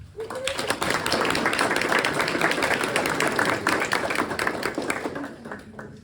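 An audience applauding to welcome a speaker at a talk on rethinking transportation, dense steady clapping that swells quickly and tapers off near the end.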